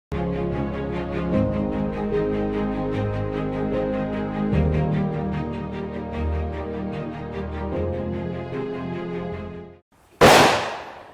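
Firecrackers in a noise-testing facility: a sustained, dense crackling roar builds and shifts for several seconds, briefly falls silent, then a sharp burst pops loudly at the end.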